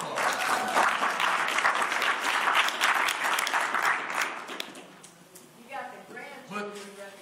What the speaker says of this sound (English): Give one Jackie a round of applause.